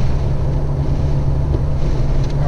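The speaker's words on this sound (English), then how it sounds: "we are getting a decent amount of wind in here now" Crosswind roaring into the cab of a Toyota Tacoma through the open rear window, a loud, steady low rumble of buffeting air that continues without a break and with no voices.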